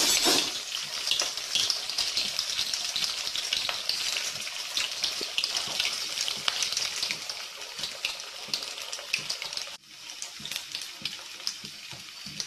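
Drumstick-leaf adai sizzles and crackles steadily in hot oil, a dense, continuous frying hiss with a brief dip partway through. No one speaks.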